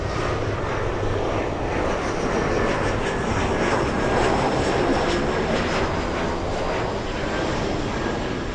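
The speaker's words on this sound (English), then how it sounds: "A 787-10 Dreamliner to Haneda, Japan." A Boeing 787-10 Dreamliner jet at LAX gives off a steady, loud broadband engine roar with a faint whine, sustained without a break and with no voices.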